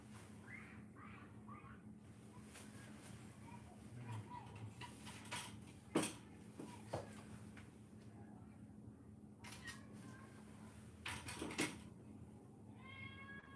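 A cat meows faintly in a quiet room: a few short, thin meows near the start and again near the end, amid light clicks and knocks from nearby objects.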